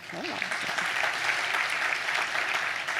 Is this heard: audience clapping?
yes